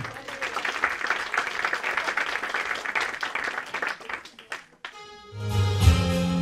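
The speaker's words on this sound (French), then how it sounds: "Allez, on peut l'applaudir, Vinciane." A studio audience applauds a singer performing songs at a radio station, with dense, steady clapping that fades out before music begins.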